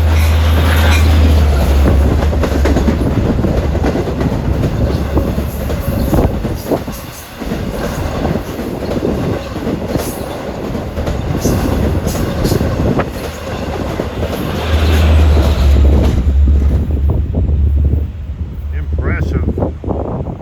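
The Long Island Rail Road Cannonball passenger train rumbles past loudly and close, steady wheel clatter with brief squeals and wind buffeting, the heavy low drone fading mid-pass then swelling again near the end.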